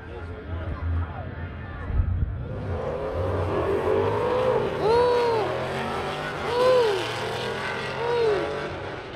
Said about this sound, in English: Slingshot versus the pickup truck.